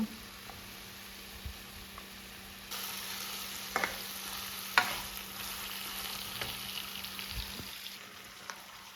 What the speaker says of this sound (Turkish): Biberleri ekledikten sonra çok az normal sıvı yağ ekliyorum. Böyle birazcık kızarsın diye.